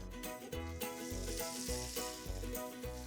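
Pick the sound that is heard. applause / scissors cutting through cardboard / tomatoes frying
tomatoes frying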